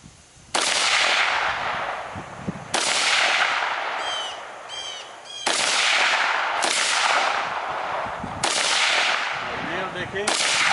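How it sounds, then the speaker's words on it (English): Gunshots from firearms such as a .357, AR15, 12 gauge and SKS, several loud sharp blasts with long echoing tails spaced a few seconds apart outdoors, with faint voices between shots. "I want to shoot the bottom of that bastard."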